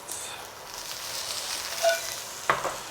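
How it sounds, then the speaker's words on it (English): Stir-fry vegetables frying in a pan during a home cooking session, a steady soft sizzle with a couple of brief clinks or stirring knocks near the end, no voices. "And let those fry for a couple of minutes."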